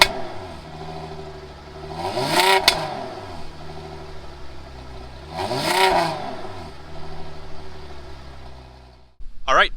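A 2008 Cadillac CTS with its 3.6 liter V6 is revved twice through the exhaust, each blip swelling from a low idle into a throaty rise and falling back, close by and loud.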